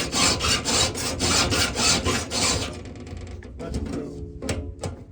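A cutting tool is sharpened with a hand file: a run of regular rasping strokes, close and loud, then a quieter pause with a couple of short final scrapes.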